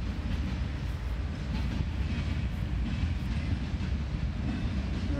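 A fast CSX westbound manifest freight train passes in Fostoria with a continuous, loud, broad rumble and rolling rail noise throughout.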